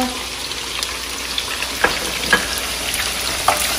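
Garlic frying in oil for a Nepali chicken pickle, a loud continuous sizzle close by with a few sharp pops and crackles scattered through it.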